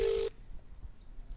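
A single short telephone ring tone sounds during a phone call, one steady electronic burst near and clear that stops quickly, leaving quiet background.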